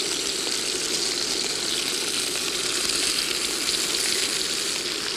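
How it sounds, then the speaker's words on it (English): Close, continuous sizzling of maize-fed chicken frying in olive oil in a pan, steady throughout with no talking. "In the pan I've got some wonderful maize-fed chicken frying away in olive oil."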